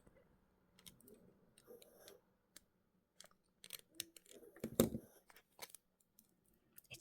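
Small cutters snipping jewellery wire while finishing a mini pumpkin pendant at the bail, with scattered sharp clicks and one louder snip near the middle, close up and quiet, with no talking.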